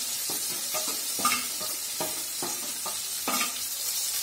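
Ground coriander goes into a sizzling pan already holding cumin powder and chilli paste for a chickpea and potato dorma, with an even frying hiss and rhythmic scraping strokes of a spatula stirring close up.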